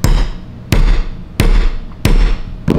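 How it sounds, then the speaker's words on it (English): A hammer strikes a metal hole punch through sneaker material four times at a steady rhythm, each close, loud impact followed by a brief ringing decay, with a fifth blow beginning at the end. "you literally just put this thing on and smack it with a hammer"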